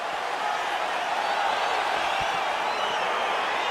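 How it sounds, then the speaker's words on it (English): A UFC fight crowd in an arena gives a broad, steady roar of cheering and excited murmur as the bout begins, with scattered whoops rising out of the continuous wash of noise. "crowd getting excited as this fight gets underway"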